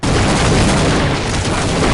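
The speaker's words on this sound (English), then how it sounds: "Why are there so many explosions?" Video game explosions boom continuously and loudly, a dense, sustained barrage of blasts filling the whole stretch without a break and with no voices.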